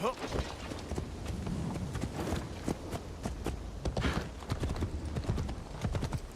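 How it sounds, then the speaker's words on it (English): Steady clip-clop of horse hooves as a rider travels on horseback in the video game Kingdom Come Deliverance 2, the hoofbeats continuous and close with a voice talking over them. "I'm gonna get back on my horse now."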